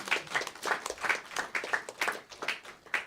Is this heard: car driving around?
no